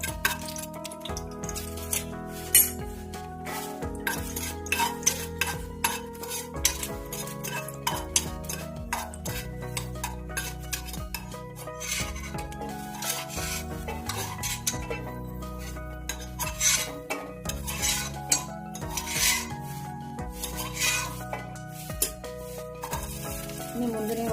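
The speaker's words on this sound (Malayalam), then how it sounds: "അണ്ടിപ്പരിപ്പ് വറുത്ത് വരാൻ പോകും" Cashew nuts frying in ghee and coconut oil in a pressure cooker for chicken biryani, a low sizzle under frequent clinks and scrapes of a metal spoon, with cooking noises dominating and some background sounds.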